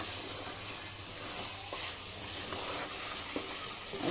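Mutton frying with onions and spices in a pan, a soft continuous sizzle with occasional stirring scrapes, fairly quiet and steady with no voices.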